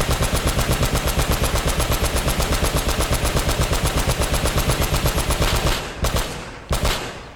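Automatic gunfire in the video game Uncharted, a loud, rapid and evenly spaced burst of shots for nearly six seconds, then stopping and followed by two separate bangs.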